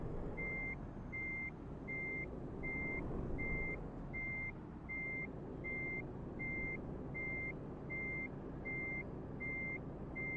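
A truck's reversing alarm in American Truck Simulator, regular evenly spaced beeps repeating about every 0.6 seconds over a low engine rumble, steady and prominent throughout.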